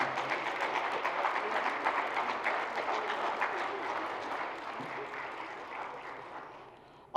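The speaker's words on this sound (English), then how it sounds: "Let's give them a round of applause." An audience at an awards evening claps for honoured nominees, a moderate, even patter of many hands that holds steady and then gradually thins and fades toward silence.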